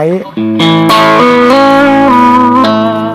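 An electric guitar through an overdrive pedal plays a few loud, sustained notes that step up in pitch, with a gritty, saturated tone that rings continuously.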